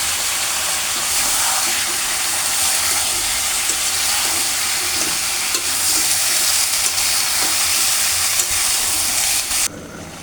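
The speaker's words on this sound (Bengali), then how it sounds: "আমার লাউটা কষানো হয়ে গেছে," Bottle gourd pieces with chilli powder and spices fry in a pan, a dense steady sizzle with scraping stirring strokes throughout, close and loud, ending abruptly.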